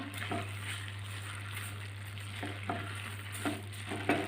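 Carrot halwa being stirred in a pan after sugar goes in, a steady close sizzle with a low hum throughout and a few soft spoon scrapes and knocks toward the end.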